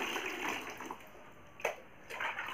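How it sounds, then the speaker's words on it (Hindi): Water is poured into an azolla and cow dung mixture, making a soft, faint splashing gush that comes in short uneven bursts. "अब हम इसमें पानी डालेंगे दोस्तों।"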